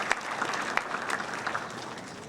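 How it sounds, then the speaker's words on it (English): Steady applause from an audience at a high school awards ceremony honoring a performing arts program, dense and moderately loud for about two seconds with a few sharper claps standing out. "Round of applause for our wonderful Mr. Mark Wingland and the entire Performing Arts program."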